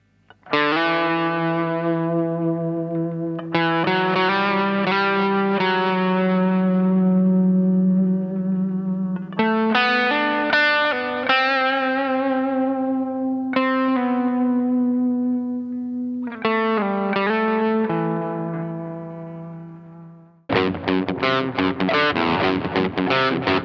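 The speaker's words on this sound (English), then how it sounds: "So I'll just give you some examples of the sort of range of the echo" Electric guitar played through a Danelectro Dan Echo delay pedal, with sustained chords and picked notes trailed by repeating echoes and a distorted, effects-heavy tone; loud and continuous, ending in a sudden strummed burst.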